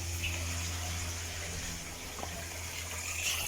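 Water runs steadily from a tap into a container at home, a continuous broadband gushing that holds at a constant level for the whole stretch with no voices over it.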